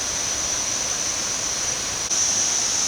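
Water pours steadily at Kuang Si waterfall, a dense, even broadband rush that stays constant and fairly loud throughout.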